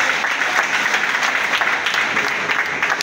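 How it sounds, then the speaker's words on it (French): An audience applauds at a JCI welcome ceremony for new members in Godomey, Benin: steady, dense clapping from many hands fills the space and holds evenly throughout. "Est-ce que vous pouvez l'applaudir, mes sœurs et mes frères?"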